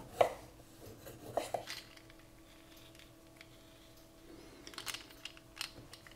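A knife finely cutting a peeled kiwi on a board, with a few sparse, faint taps and clicks scattered over a quiet kitchen background.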